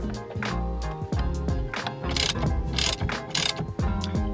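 A ratchet clicks in quick bursts while a steering wheel bolt is run back in on an MK6 Volkswagen Golf, the close mechanical ratcheting repeating steadily with short pauses between strokes.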